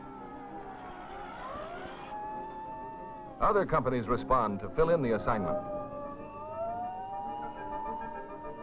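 Sirens of fire engines from an engine and ladder company and battalion rolling out of a city fire station to a street alarm box call in 1960, distant wailing tones rising and falling behind someone narrating, with a brief burst of another voice midway.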